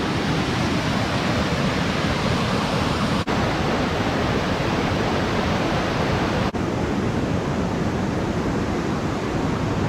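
A waterfall in Pai, Thailand roars in a dense, constant broadband rush, loud and close, with no talking over it.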